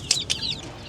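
Chickens on a crowded rooftop give two quick, high-pitched clucking calls in under a second, close and fairly clear.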